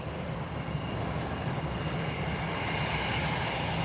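An Allegiant airliner at Fort Lauderdale airport produces a steady, moderately distant jet engine roar, a continuous broadband rumble with no voices over it.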